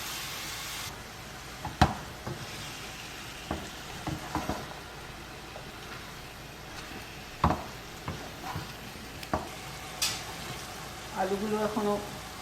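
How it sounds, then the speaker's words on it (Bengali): Cabbage frying on a low flame is turned over in a pan, giving a soft continuous sizzle with scattered sharp scrapes and clinks, plus a brief rattle near the end. "বাঁধাকপিটা একটু নেড়ে চেড়ে ঢাকা দিয়ে দেবো, একদম লো ফ্লেমে নেড়ে নিই ওপর নিচ করে।"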